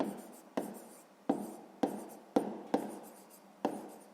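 Handwriting on paper while working a sixth-grade math exercise, heard as a series of close, sharp pen strokes and scratches that come in irregular spurts, each trailing off.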